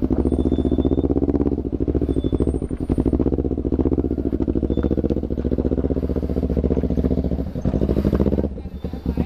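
A motorcycle engine held on the throttle at a campsite outing: a loud, pulsing, rough exhaust drone revs continuously up close, dipping briefly near the end, while people speak over it.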